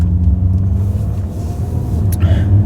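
A Porsche Panamera 3.0 litre diesel pulls out of a dealership with a deep, steady engine rumble heard from inside the car, low and close throughout.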